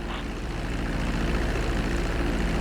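A propeller airplane in Grand Theft Auto V drones steadily as it slows for a runway landing, a continuous low engine hum with a faint rhythmic pulse and no voices.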